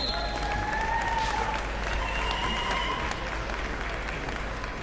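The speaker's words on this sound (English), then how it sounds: "please give him a big round of applause for what he's done" Steady applause from a crowd at a topping-out ceremony for a new entertainment and sports arena at St. Elizabeths, continuous clapping filling the room at an even level throughout.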